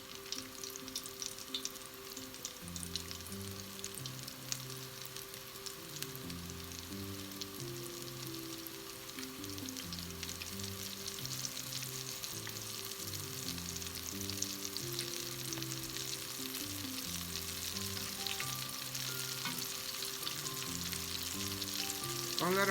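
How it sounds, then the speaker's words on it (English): Beer-batter onion rings deep frying in a fryer at 350 degrees, a dense continuous crackling sizzle that builds steadily, close and loud, with background music playing underneath and no talking. "now we're going to drop them into the fryer, 350 degrees."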